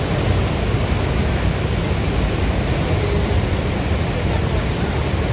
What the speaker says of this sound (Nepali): एकदम भेल बगेको छ